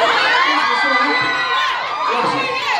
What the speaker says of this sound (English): I say that on stage, people cheer.